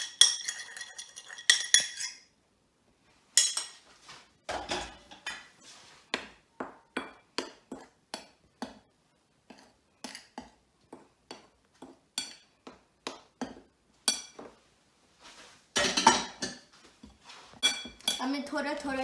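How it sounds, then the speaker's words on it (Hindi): A utensil scrapes and clinks against a bowl in irregular bursts of stirring flour, salt and baking soda, close by, with quiet gaps between strokes and no talking. "सॉल्ट और बेकिंग सोडा मिक्स करना है।"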